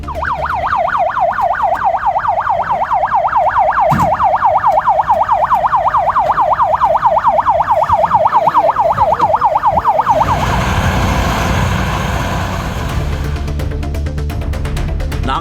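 A fire service vehicle's siren wails in a steady rapid cycle during a fire department drill held with the district administration, loud and close for about ten seconds before giving way to rumbling engine and street noise.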